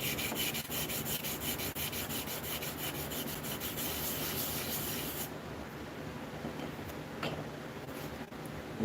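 A knife blade being hand-sanded with 1000 grit sandpaper, a steady close rhythmic rubbing of abrasive strokes that lightens partway through, with no talking.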